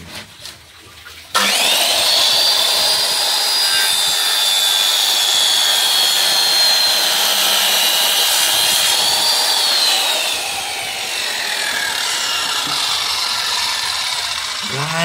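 A Ryu RCS 185-1 circular saw starts abruptly and runs at a loud, steady, high-pitched whine as it cuts through hard wood for about fourteen seconds. The pitch dips slightly near the end of the cut.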